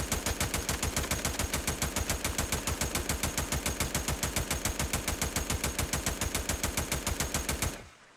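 Steyr AUG 5.56mm bullpup assault rifle in Days Gone firing a long, steady full-auto burst, with rapid evenly spaced loud shots for nearly eight seconds before cutting off abruptly.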